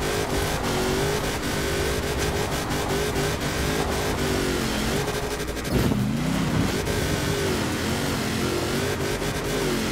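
A large off-road car driving through snow in the racing game Forza Horizon 4, its engine droning steadily and loudly throughout, with a brief surge and revving swell near the middle.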